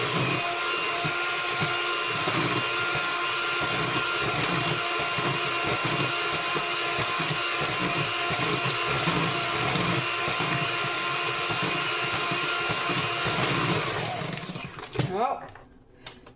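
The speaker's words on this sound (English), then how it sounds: "this is what you get when you get an antique mixer" An antique electric mixer whirs steadily and loudly while whipping meringue toward firm peaks, its motor pulsing with the beaters before slowing and cutting off near the end, with a voice speaking briefly under the noise.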